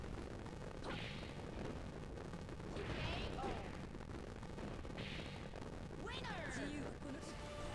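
Dead or Alive 3 fighting game emulated at 1080p on a small-form-factor PC with a Radeon GPU, with loud thumping hits, crashes and bursts of game sound effects and voices over a constant backdrop of game music.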